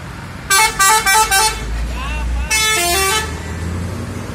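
Andalas 02 bus on the Cipali toll road near KM 188, sounding a loud musical horn in several rapid blasts, then a low engine rumble as it passes close, followed by another long horn phrase.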